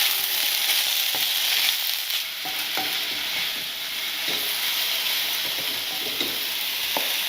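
Chicken tikka with stir-fry vegetables sizzles steadily in a hot pan, with scattered clinks and scrapes of a utensil stirring and mixing the food, close and clear with no talking.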